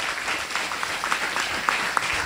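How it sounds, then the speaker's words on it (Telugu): An audience claps together at a church jubilee celebration in a village parish, a dense continuous round of applause at moderate distance that holds steady throughout. "ఒకసారి గట్టిగా చప్పట్లు కొడదాం ప్రియ సహోదరులారా."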